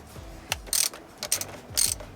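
Ratchet loosening the steering wheel bolts on a Tesla: quick bursts of metallic clicking repeated three times in close succession, near and clear.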